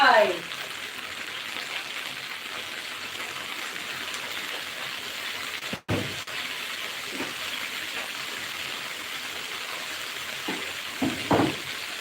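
Liver stir-frying in a wok with dried chilies and fish sauce, a steady loud sizzle throughout with occasional clatters of stirring and a brief dropout midway, no talk over it.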